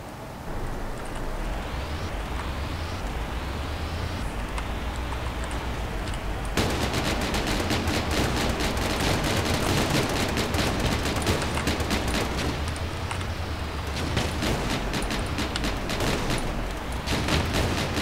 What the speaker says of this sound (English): Those medium cannons plus the large cannons seem to really do a pretty good job of knocking people back.